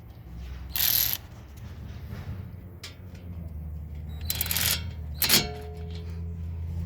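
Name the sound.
ratchet tightening car speed sensor bolt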